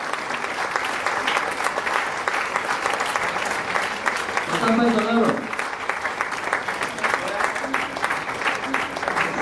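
An audience at a seminar claps continuously for about nine seconds, dense and steady applause from many hands, with a brief voice rising through it midway.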